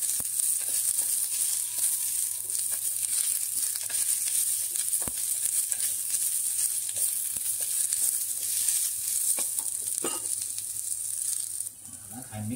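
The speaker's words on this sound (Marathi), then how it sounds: "थोडं तेल टाकते। तेलावर चांगला कांदा भाजून घेऊ आपण।" Onion frying in oil, giving a steady, loud sizzle that runs unbroken and close, with faint stirring clicks and no talk, as part of village-style spicy crab curry cooking.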